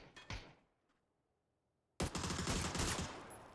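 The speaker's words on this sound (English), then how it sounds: "Nice headshot against Fawn." Loud burst of gunfire in a competitive video game match, a couple of sharp shots at the start, a pause of near silence, then a dense, sustained volley of rapid fire lasting over a second.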